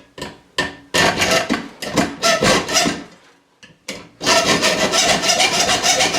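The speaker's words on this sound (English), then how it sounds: "what I do is just use my metal hacksaw for cutting metal" A metal hacksaw cuts through metal clamped in a vise, with rhythmic rasping back-and-forth strokes, close and loud, in short bursts at first and then a faster continuous run.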